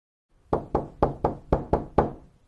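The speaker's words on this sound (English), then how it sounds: "I knocked on the door." Knuckles rap on a door seven times in a steady, even rhythm, each knock sharp and close with a short hollow decay, heard alone with no voices.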